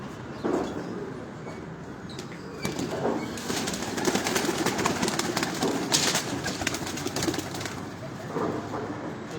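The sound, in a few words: pigeons cooing on a rooftop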